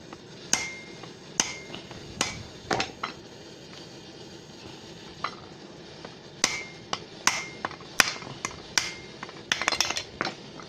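Hammer blows knocking the crankshaft bearings out of a Peugeot 103 moped engine case: sharp metallic strikes, a few spaced, then quicker clusters near the end, close and loud over a quiet workshop.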